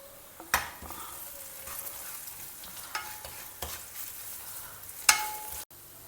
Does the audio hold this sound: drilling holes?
no